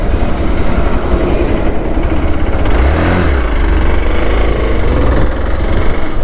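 A Hero Xpulse 200 4V motorcycle from 2022 with a BS6 engine, heard while riding, gives a steady loud engine drone with wind noise that briefly swells in pitch midway, with no talking.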